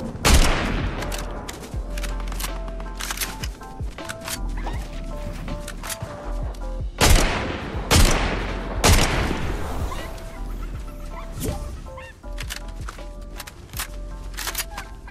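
Gunfire in Fortnite rings out in repeated sharp bursts and single cracks, loud and close, with brief pauses between volleys.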